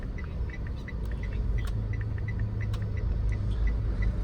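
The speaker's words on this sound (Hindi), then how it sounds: "Traffic." Steady low road-traffic rumble on a street in Bali, with a continuous engine hum and scattered faint high chirps over the top, no voices.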